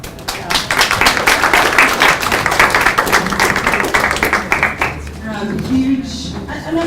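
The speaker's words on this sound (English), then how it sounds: "Another big round of applause" Hackathon audience in Athens giving sustained applause, dense rapid hand claps close and loud for several seconds before thinning out, with a presenter's voice coming in at the end.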